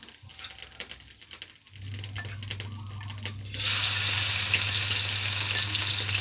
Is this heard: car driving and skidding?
no